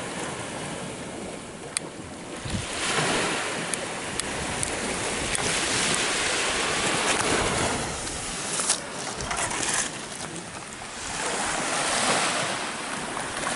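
Calm Caribbean sea off Jamaica washes against the shore in a broad, steady surf wash with gentle swells and some wind rumble on the microphone, no voices.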